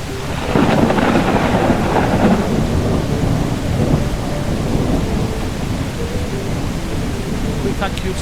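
Rain pours steadily with deep thunder rumbling through it in a stormy scene from the video game Sunset Motel, loud and continuous, with a brief voice underneath.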